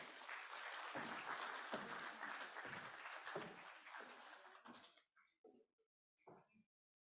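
Audience applause at a privacy symposium in Africa, a fairly quiet burst of clapping for about five seconds that breaks off into a few scattered claps and brief murmurs.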